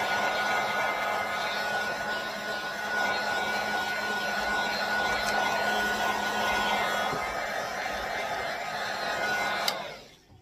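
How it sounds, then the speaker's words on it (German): An industrial hot-air gun or heavy dryer blows steadily and loudly over wet watercolor paint on a book cover. A continuous whooshing roar with a faint whine holds for about ten seconds before cutting off abruptly at the end. "Industrieföhn"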